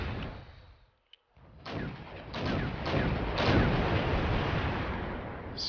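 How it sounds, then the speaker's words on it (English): Artillery and anti-tank missile fire in the video game Wargame European Escalation: a heavy blast, a brief silence, then rolling booms and sustained rumbling fire that stays loud to the end. "Sending a lot of anti-tank missiles my way"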